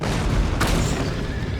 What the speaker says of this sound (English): Russian cannons.